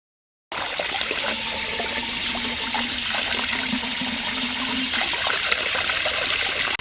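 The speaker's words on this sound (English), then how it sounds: "I'm going to go fill it with water, rinse it out a little bit" Water runs steadily from a tap into a plastic bottle being filled and rinsed, a continuous splashing rush with a rising fill tone, no voices.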